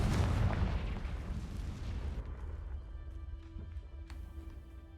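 A Confringo blasting spell in Hogwarts Legacy, one loud explosive burst at the start decaying into a rumbling tail, followed by quieter tonal game sounds.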